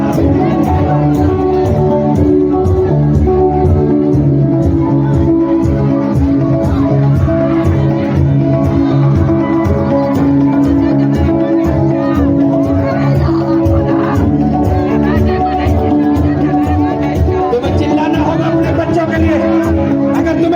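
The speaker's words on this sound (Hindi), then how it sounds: "मेरे भाइयों चिल्लाओ, चिल्लाओ, चिल्लाओ।" Loud congregation shouting together during a Hindi-language fire prayer service, a dense continuous roar of many voices filling the whole stretch, with a preacher's voice urging over the crowd.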